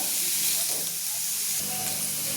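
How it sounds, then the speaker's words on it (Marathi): Capsicum and carrot steaming in a covered pan for corn soup, a steady loud hiss and sizzle that stays even and close throughout, with no voices. "छान याला 2 मिनिटं वाफेवर होऊ द्यायचं"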